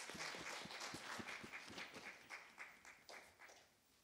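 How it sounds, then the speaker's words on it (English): Scattered applause from an audience at a Sunday school sword drill competition, a faint, sparse patter of individual claps that thins out and fades over a few seconds. "shall we give a round of applause to all our contestants?"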